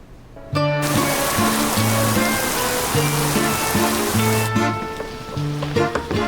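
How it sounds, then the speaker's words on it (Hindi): A steady wash of rain hisses continuously, with a repeating melodic tone pattern running underneath. "बाहर बारिश हो रही है"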